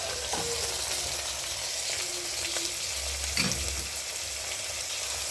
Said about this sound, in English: I will now add my tomatoes.